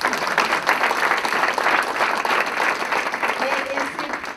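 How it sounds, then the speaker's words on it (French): A crowd at a foundation gathering claps in a warm, continuous round of applause, steady and fairly loud throughout with faint voices mixed in. "ça mérite des applaudissements."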